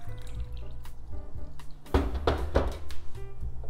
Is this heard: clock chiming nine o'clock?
no